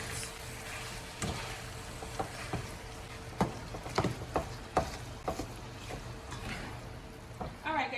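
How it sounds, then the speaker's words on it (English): Meat for fried taco egg rolls cooks in a pan, a faint, steady sizzle and frying hiss with occasional scrapes and taps of stirring, quiet and close, with a low hum beneath. "And we're going to cook our meat."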